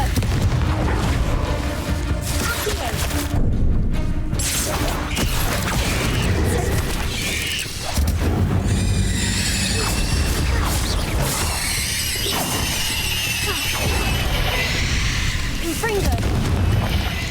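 Repeated Confringo blasting-spell explosions from the video game Hogwarts Legacy, deep booms and crashes layered with combat effects and music, with a voice shouting spell names over them.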